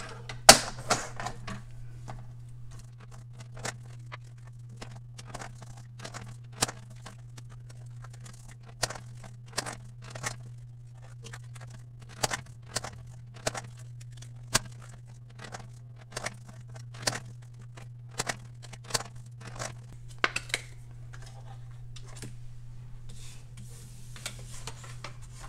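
Envelope cards being trimmed after laminating, with a run of sharp, irregular clicks and snips like a paper trimmer or scissors cutting, fairly close over a steady low hum, no talk.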